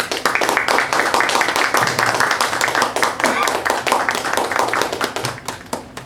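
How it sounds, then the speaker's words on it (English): A live audience at a religious gathering applauds for Brother Lieutenant, a steady burst of close, dense hand clapping that holds for several seconds before tapering off. "Again, let's give our brother Lieutenant a round of applause"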